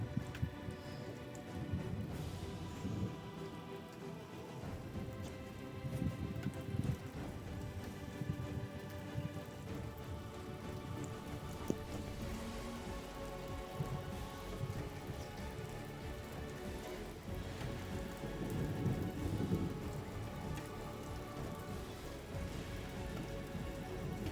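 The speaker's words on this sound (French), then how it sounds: "On distingue bien le rideau de pluie là." Heavy rain pours steadily onto surfaces nearby at night during a storm, a dense continuous patter with a low rumble underneath and no speech.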